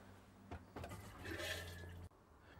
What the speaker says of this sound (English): The toilet is a flush toilet,